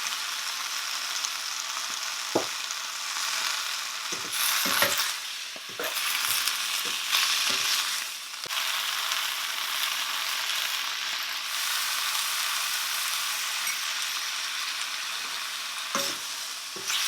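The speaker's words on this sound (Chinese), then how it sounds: "先把切好的根茎部分下去翻炒一下。" Sliced vegetable stems are stir-fried with garlic and ginger in a hot wok, giving a steady close sizzle broken by intermittent scraping and clacking from the spatula.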